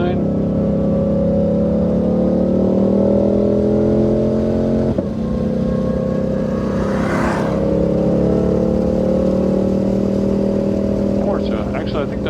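A 2020 Shelby GT500 roars around a race track with a sustained, loud engine drone, briefly dipping before pulling hard again, while another car is heard nearby; voices talk over the engine throughout.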